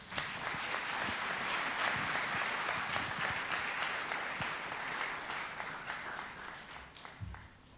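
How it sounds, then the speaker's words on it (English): An audience at an environment day event applauds a student's poem, broad dense clapping that holds steady and then gradually thins and fades toward the end. "Another big round of applause, kindly, for such inspiring poem."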